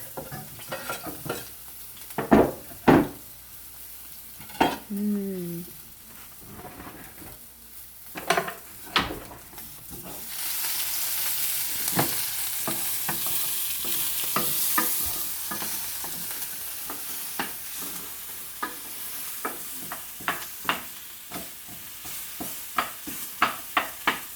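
Onion and garlic land in a hot, smoking pan for a sausage and lentil stew: clattering stirs and utensil knocks first, then a loud, sustained sizzle broken by sharp scraping strokes, with nobody talking.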